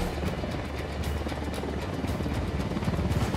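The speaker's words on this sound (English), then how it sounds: "Helicopter inbound." A steady, loud helicopter rotor thrum in Tom Clancy's Ghost Recon: Wildlands, with a continuous low beating drone throughout and no talking.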